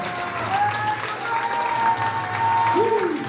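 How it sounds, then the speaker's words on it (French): Audience at a sports awards ceremony in Nilvange applauding a climber who scaled a 60-degree wall, steady clapping throughout with a faint tonal whine and a voice rising briefly near the end. "On va l'applaudir"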